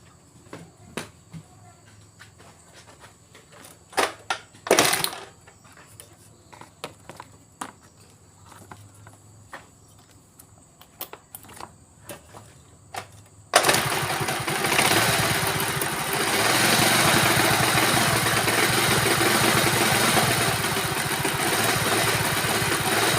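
A Honda Vario 110 scooter fitted with a Shogun Kebo CDI starts after several scattered clicks and knocks, then settles into a steady, fairly loud idle that runs on for about ten seconds.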